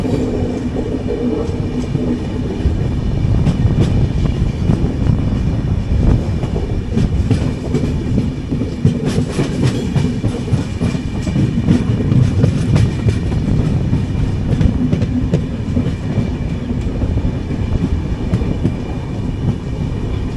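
A Chennai–Bodinayakanur AC Superfast express train rolls into Theni station, its steady loud rumble and clickety-clack wheel rhythm carrying on continuously throughout, heard from inside the train without any talk.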